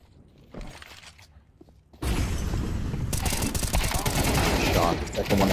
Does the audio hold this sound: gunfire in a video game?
yes